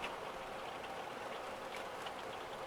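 Rain pouring on an old canvas pop-up camper, a steady, dense hiss of drops with light patter, heard close and unchanging throughout.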